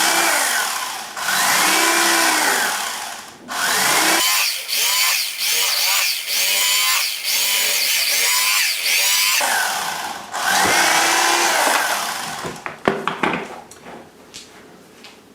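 An electric knife buzzes steadily through roast turkey dark meat, the motor running in long continuous bursts with short pauses between cuts, close and fairly loud, ending with a few clattering knocks.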